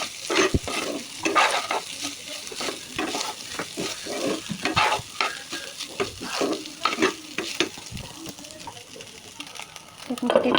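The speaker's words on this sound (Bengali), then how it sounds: "ভালো করে নাড়াচাড়া করে নিচ্ছি। আমি ভাতগুলো দিয়ে দিচ্ছি" Fried rice is stirred and tossed in a hot pan. Repeated scraping and knocking of a spatula against the metal comes in uneven bursts over a continuous sizzle, close and fairly loud.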